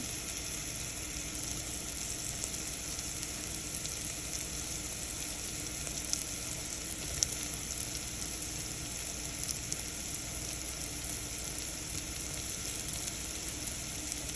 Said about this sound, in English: I am going to go ahead and add the sausage I made earlier this morning, just to warm that back up